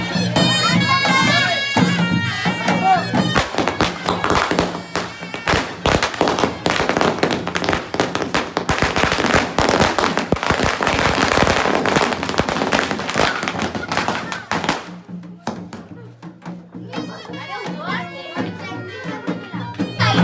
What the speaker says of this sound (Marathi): बाहेर यायच्या आधी फटाके फोडणे मॅन्डेटरी.